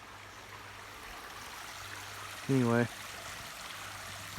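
A creek in Appalachia flows steadily as a soft, continuous background wash of water, with a brief spoken word rising over it midway through.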